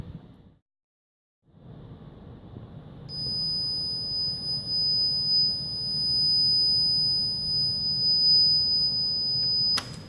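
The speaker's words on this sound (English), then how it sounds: "So that's an example of the alarm condition." Temperature alarm buzzer on an Arduino sensor circuit, a steady high electronic tone that switches on after a few seconds and sounds continuously over a low background hum, cutting off near the end.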